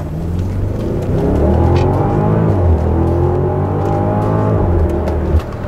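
A BMW X6 50i (F16) with a V8 biturbo engine accelerates hard in sport mode, its deep engine note climbing steadily and loud close to the car, with a brief drop and recovery near the end, no talking.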